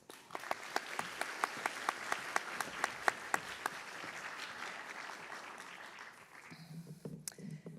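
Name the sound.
audience applause at school valedictory ceremony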